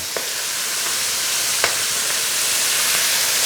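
Shrimp frying in hot oil over high heat, a steady bright sizzle with a few faint pops and clicks throughout.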